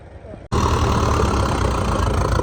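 A tractor engine starts abruptly and then runs loud and steady close by, its rough low drone filling the rest of the clip after a brief quiet moment.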